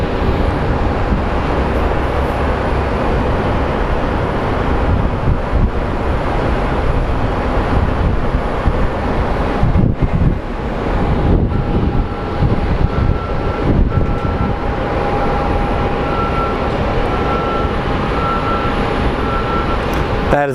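A Southwest plane is pushed back at Phoenix Sky Harbor airport under a loud, constant roar of jet engines and ramp noise. The roar holds steady throughout, with faint tonal whines rising in the later part.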